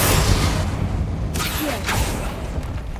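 A Confringo blasting spell goes off in the Hogwarts Legacy video game, a loud broadband burst with a whooshing sweep and rumbling low end that fills the whole moment, with no talking over it.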